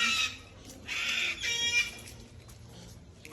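Chickens cluck and squawk in short, bright bursts, three or four calls close by over a low outdoor rumble.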